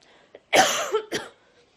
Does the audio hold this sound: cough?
yes